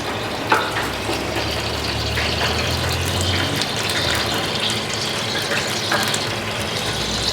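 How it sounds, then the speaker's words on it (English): Battered prawns fry in hot oil for sushi dragon rolls, a dense continuous sizzle and bubbling hiss at steady loudness, close up with no talk. "we're going to lower them in slowly, okay, and carefully, and just waft it through the oil, the hot oil, until it catches so that it floats"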